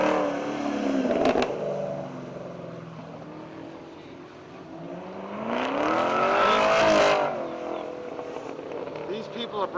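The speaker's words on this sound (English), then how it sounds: "here's a nice fine piece of equipment coming up. A Fiat 500." A Fiat 500 on a track day at Homestead-Miami race track: an engine drone rises and falls as the car passes, swelling loudest midway before fading, with someone talking over it throughout.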